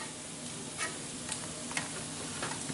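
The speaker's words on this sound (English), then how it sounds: "She's stirring the eggs" Eggs being stirred in a bowl for scrambled eggs, a steady soft swishing wash with a few faint clicks of utensil on the bowl, close and low, with no voices.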